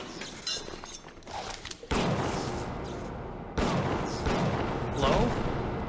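Pistol fire in the video game Bioshock: a couple of sharp, loud shots that each give way to a sustained noisy tail, heard over busy game sound with no voice on top.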